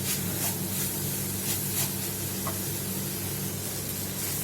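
Egg fried rice sizzles and hisses steadily in a hot pan while pepper is stirred through it, with soft rhythmic scraping strokes of the spoon under a dense, continuous frying noise.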